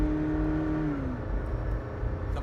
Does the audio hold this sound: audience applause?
no